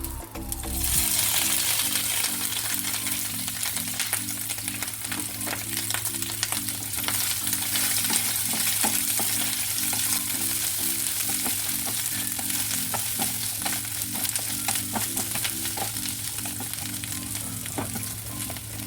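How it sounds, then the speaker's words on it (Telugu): Bitter gourd pieces and peanuts fry in a pan over low heat, giving a steady, close sizzle with rhythmic scraping and stirring clicks throughout, and no voices. "ఒక స్పూన్ పల్లి ఇవి కొద్దిగా ఫ్రై అయ్యాక ఈ కాకరకాయ ముక్కలు"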